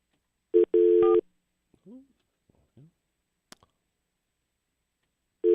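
A telephone being dialed gives a loud beep followed by a longer beep, then a few faint clicks and taps, with a sharp tick and another beep near the end.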